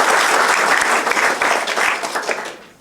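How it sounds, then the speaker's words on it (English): An audience at a school wordplay performance applauds, a dense burst of many hands clapping that stays loud and close before thinning and fading out toward the end. "let's give some applause for the vampire"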